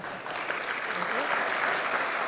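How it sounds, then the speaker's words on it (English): An audience at a public forum on constitutional amendments applauds in a steady, dense wash of many hands clapping. The applause stays even and sustained for the whole stretch, with no talk over it. "round of applause for"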